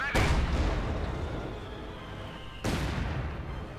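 Field gun artillery shells firing in the video game Company of Heroes 2, two heavy booms a few seconds apart, each rolling into a long, loud rumble.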